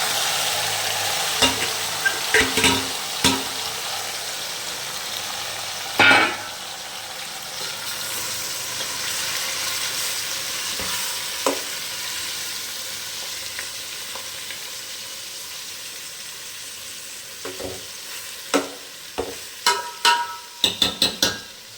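Marinated chicken for biryani sizzles and fries steadily in a pan, with intermittent stirring and clatter knocks over the constant hiss; no talking.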